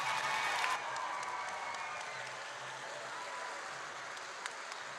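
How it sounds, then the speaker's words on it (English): A robotics competition audience claps in a steady wash of applause, loudest at the start and then settling into a softer, continuous patter. "Please, a round of applause for Team"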